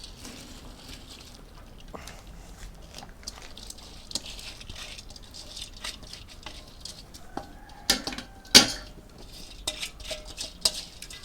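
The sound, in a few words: washed basmati rice added to boiling water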